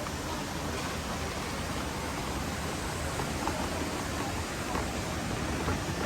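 Steady rushing water from a waterfall beside a theme park queue line at Animal Kingdom, a constant broadband wash of moderate level with no clear breaks, heard without speech.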